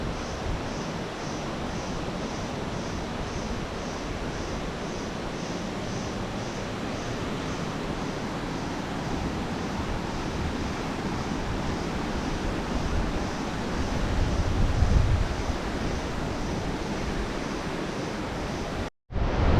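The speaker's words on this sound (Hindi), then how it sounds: "दूसरा झरना" A mountain waterfall on a Himalayan trek to Madhmaheshwar, rushing in a broad, constant roar that swells slightly near the end before an abrupt cut, with no voices.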